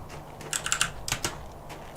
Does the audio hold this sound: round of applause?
no